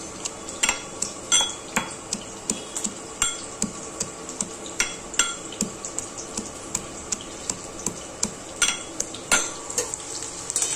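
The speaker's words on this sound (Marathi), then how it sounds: "तोपर्यंत इकडे कांदा पण चांगला भाजून होतोय." Onion frying in a pan for Maharashtrian matki misal, a soft background sizzle broken by repeated sharp clinks and scrapes of a spoon against the pan at an uneven rhythm.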